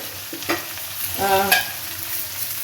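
A spatula stirs sugar into frying pumpkin greens, potato and eggplant in a pan, with a few sharp scrapes and one longer grinding stir over a low sizzle.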